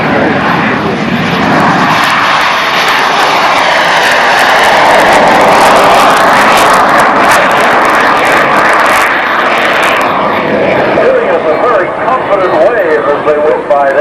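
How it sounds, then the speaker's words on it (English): A BAC Strikemaster jet takes off at close range, its engine swelling to a loud, roaring whine that peaks and stays loud, then gradually fades as it climbs away, with a voice talking over it. "if you haven't seen or heard a jet take off at close range, have a listen to this"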